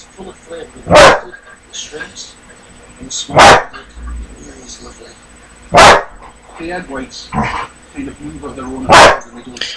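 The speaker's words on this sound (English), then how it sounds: "we've had to deal with that barking for a few days now" A dog barks loudly four times at spaced intervals, with quieter indoor sounds and faint talking in between.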